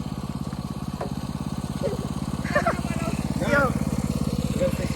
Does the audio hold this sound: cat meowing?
no